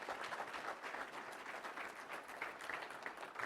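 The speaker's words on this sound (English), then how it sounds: "Clap it up for him." Audience applause at a college new student convocation, a steady wash of clapping from a large crowd that holds evenly for several seconds with no voices over it.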